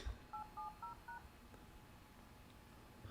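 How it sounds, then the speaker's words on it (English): An old touch-tone telephone being dialed, four quick clear tone beeps in a row, followed by quiet room hush. "went to go make a phone call. Right. On an old touch-tone phone."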